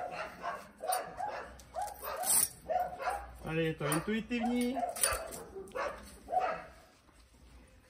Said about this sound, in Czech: Doufám, že přes ty psy něco uslyšíte.